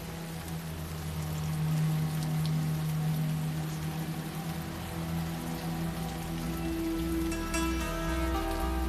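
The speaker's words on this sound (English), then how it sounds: "Suddenly, heavy rain is coming down right on top of me." Heavy rain pouring down steadily, a dense, loud wash of rainfall on surfaces throughout, mixed with low droning tones in the background.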